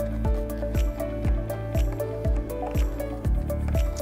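A spatula mashing water-sprayed soil into a fine paste for soil painting, with a string of wet squishing strokes and sharp clinks, roughly two per second, close up with no talking.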